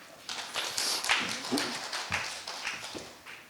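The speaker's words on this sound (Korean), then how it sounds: "배항섭 교수님께 큰 박수 부탁드립니다" An audience at an academic conference applauds, giving a dense, steady patter of many hands clapping that swells in the first second and then holds for a few seconds before fading slightly.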